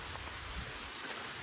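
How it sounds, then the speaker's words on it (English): Rain pours steadily in Bee Tree Park in St. Louis, Missouri, as a faint, dense broadband hiss of falling drops with no voices. "But it's raining. It's raining. It's pouring."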